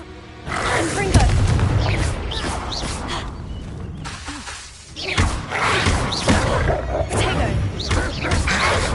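The Confringo fire spell in Hogwarts Legacy goes off in a series of loud booms and crashing thuds amid continuous combat noise, with voices talking over the fight.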